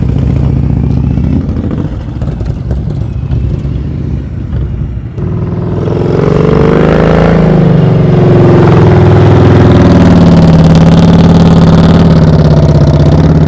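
A motorcycle engine runs close by during slow-speed riding practice, a loud steady idle that rises into a revving, shifting drone as the throttle opens, with no talk over it.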